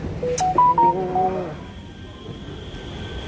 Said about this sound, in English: someone is just calling me